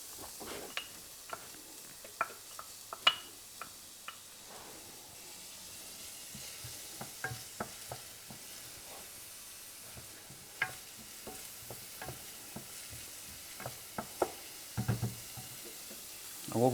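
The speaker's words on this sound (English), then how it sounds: "we're first going to fry the onions and the shrimp" Onions and shrimp fry in neutral oil with a faint, soft sizzle, punctuated by frequent light clicks and taps of stirring with a utensil in the pan.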